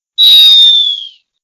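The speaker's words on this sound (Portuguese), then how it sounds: "Apito final no Boleirando de hoje." A referee's final whistle sounds once: a single loud, shrill blast lasting about a second, then silence.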